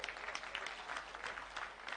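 Applause from the audience at the International Arya Mahasammelan 2006 conference, a faint, distant, even patter of many hands sustained throughout.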